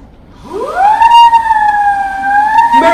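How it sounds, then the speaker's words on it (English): A loud siren rises quickly and then holds a steady, sustained wail, close and continuous with a strong harmonic tone, in a high school stage production of "It's A Wonderful Life". "turn this siren wide open"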